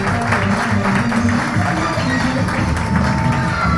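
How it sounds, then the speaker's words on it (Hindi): An audience at a business association gathering claps in a loud, continuous round of applause, with faint voices underneath. "एक बार तालियां होनी चाहिए दुर्गेश सर के लिए।"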